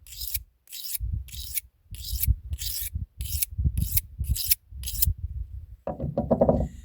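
A knife is stroked over a 600 grit Swiss Tech whetstone in a steady series of about nine rasping strokes, close and clear, then a brief rougher scrape at the end.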